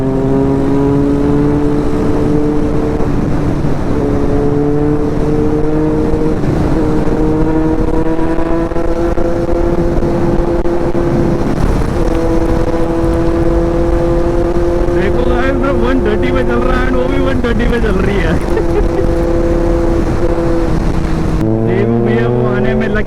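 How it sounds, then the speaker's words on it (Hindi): A KTM Duke and a Kawasaki Z900 superbike racing on the road, heard as a steady loud engine drone with rising and falling revs and gear changes, close to the rider throughout. "हो जाए रेस ड्यूक वर्सेस Z900"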